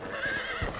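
A horse gallops in the video game Red Dead Redemption, a brief burst of hoof clip-clop with a whinny-like tone over it, close and steady.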